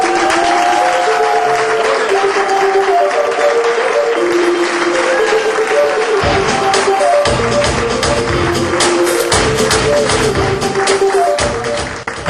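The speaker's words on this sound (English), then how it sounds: "I want to even hear a bigger applause" An audience at a Zimbabwe fundraising event in Dublin applauds to welcome Nollywood actress Nkiru Sylvanus, sustained clapping and cheering mixed with loud music and a rhythmic beat throughout.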